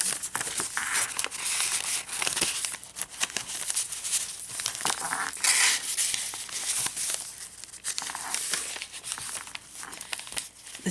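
Leftover sheets of paper are handled and crumpled for about ten seconds of steady, close crinkling and rustling with small tearing crackles, with no talking over it.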